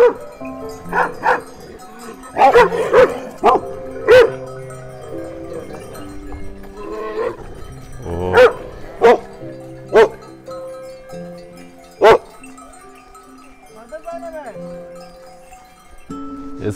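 A dog barks repeatedly on a walking trail up toward a mountain village, sharp close barks and yips in irregular bursts with whimpering between, while someone talks at times.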